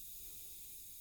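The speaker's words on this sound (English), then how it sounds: "Fizzing, fizzing." A fizzing craft mixture squeezed onto paper gives off a steady, soft hiss that continues evenly from start to finish, close up and alone.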